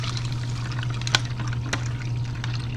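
About 12 ounces of water poured into an MRE pouch with pinkish powder, a steady nearby trickling pour with a couple of sharper splashes partway through.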